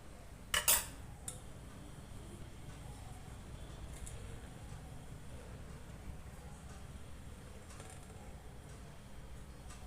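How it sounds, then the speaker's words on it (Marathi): A spoon spreads curd around the inside of a wide metal pot, opening with a sharp pair of clanks, then a few faint scrapes over quiet background hum, with no talk. "पूर्ण भांड्याला ते पसरून घ्यायचं दही।"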